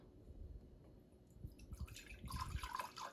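Coloured water being poured out of a measuring cup, heard as a faint splashing and trickling stream that grows busier toward the end.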